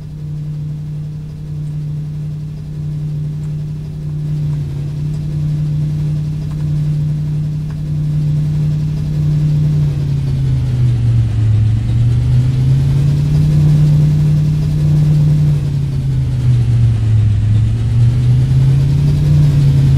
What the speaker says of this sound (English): Refueling truck is on its way.